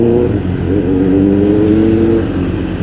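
A motorcycle engine revs loud and close, a steady throaty drone rising in pitch over about three seconds with no talking.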